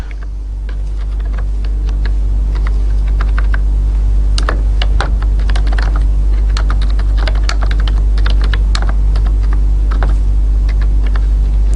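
Someone types a program on a computer keyboard, producing a steady stream of close, clicky keystrokes with a few louder taps over a constant low hum.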